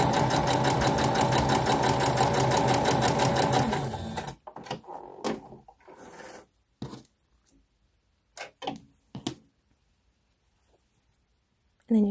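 A sewing machine stitches quilt seams in a steady rapid hum for about four seconds, then stops, followed by quiet handling clicks and fabric rustles.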